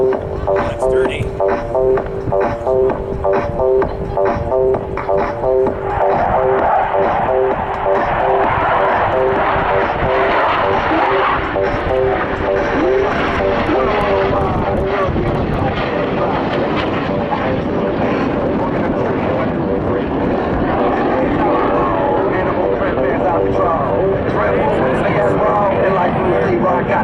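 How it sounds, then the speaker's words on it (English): An RCAF CF-18 Hornet jet flies a slow, inverted pass in landing configuration at an airshow, a loud steady engine roar that swells and shifts over nearly half a minute, with an announcer talking over it. "Watch as Captain Gobeil rolls to the inverted position for the dirty inverted pass."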